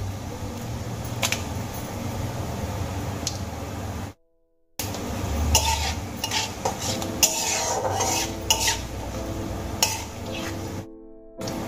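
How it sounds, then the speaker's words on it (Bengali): Panch phoron and dried red chillies frying in hot oil: crackling sizzle with frequent metal spoon scrapes and clinks against the pan, briefly cut to silence twice. "তেলের মধ্যে আমি দিয়ে দেব পাঁচ ফোড়ন। সঙ্গে দিয়ে দেব চার পাঁচটা শুকনো লঙ্কা।"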